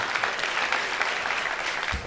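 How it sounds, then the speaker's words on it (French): A studio audience gives steady, dense applause at a talk show, with many hands clapping at once and a continuous crowd texture throughout. "Mesdames et messieurs, on applaudit"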